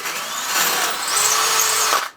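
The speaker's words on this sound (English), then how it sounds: "I'm going to drill this out to the next size up, which will be 8mm" A power drill bores a hole out to 8mm in a hard, plasticky material, one loud continuous whine running steadily for about two seconds before cutting off abruptly.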